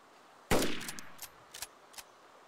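A single loud close gunshot in the DayZ video game cracks out with a long decaying tail, followed by a few fainter distant shots spaced over the next second and a half.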